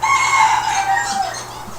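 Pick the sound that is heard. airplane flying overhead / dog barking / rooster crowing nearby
rooster crowing nearby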